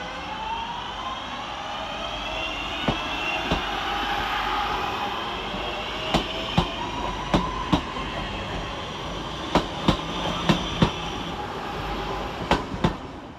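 A Northern electric train, unit 323236, runs through Manchester Oxford Road station with a broad rumbling hum and rising motor whine, punctuated by repeated sharp clacks of wheels over rail joints, fairly close and with no voices.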